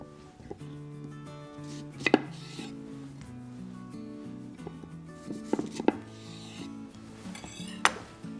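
Fresh lemons being sliced with a knife, a few sharp knife-on-board chops spaced a couple of seconds apart over a quiet kitchen background with faint music.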